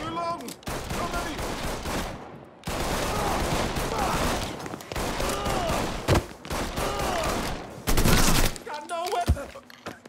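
Gunfire rips through a shootout in the video game Mafia 3, with long, loud sustained bursts separated by brief gaps and a short final volley, while a voice speaks briefly.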